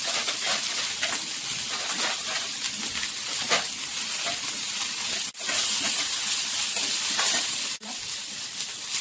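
Onion, tomato, coriander and whole spices fry in a hot pan for egg curry, a steady loud sizzle and hiss with occasional stirring scrapes and two brief dips, no talking.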